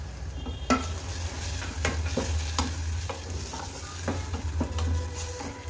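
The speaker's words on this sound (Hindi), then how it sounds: "टमाटर को थोड़ा हम यहाँ स्मैश कर रहे हैं।" Tomatoes sizzling in a pan for sambar while a spoon stirs and mashes them, giving repeated scraping knocks over a steady hiss, close up.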